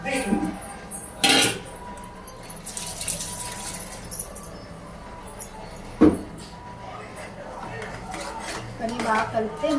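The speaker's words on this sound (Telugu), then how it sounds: "వీటిలో వేస్తాను అవన్నీ బాగా మిక్స్ చేయాలి" Utensils clink and scrape against a pressure cooker as minced mutton is stirred and mixed, with intermittent sharp metal knocks over a low kitchen background.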